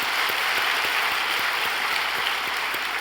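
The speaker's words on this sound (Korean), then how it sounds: "한 박수 크게 칠까요?" A church congregation applauds during a sermon, a dense, steady wash of many hands clapping at even loudness throughout, with no voices over it.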